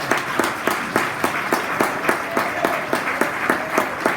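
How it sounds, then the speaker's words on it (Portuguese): A church congregation applauding in praise, with loud, rhythmic, unified clapping on a steady beat throughout. "Pode aplaudir a Jesus"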